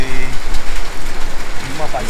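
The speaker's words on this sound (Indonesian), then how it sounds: "Masih hujan lah." Steady rain falls on Mount Kinabalu, a loud, even hiss of drops close by, with a short faint voice near the end.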